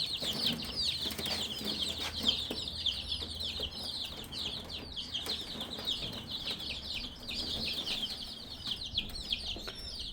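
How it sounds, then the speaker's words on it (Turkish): Dense, continuous high-pitched cheeping from about 35 chicks together in a coop, steady and busy throughout with soft rustling underneath. "civcivlerimiz 35 adet yeni yuvalarına yerleştirdik"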